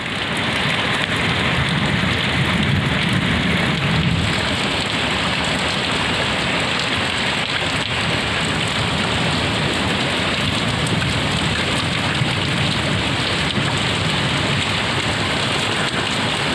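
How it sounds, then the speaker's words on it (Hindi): Heavy rain pours steadily in a village during a thunderstorm, a dense continuous hiss of drops on surfaces with low thunder rumbling in the background, loud and unbroken throughout. "तो साथियों कमेंट में बताओ भाई कित कित बारिश होने लग रही है।"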